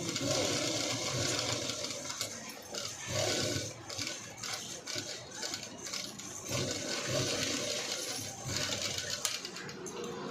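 A sewing machine stitches a princess-cut blouse with a front cut-work design, running in uneven close whirring bursts that speed up and slow down.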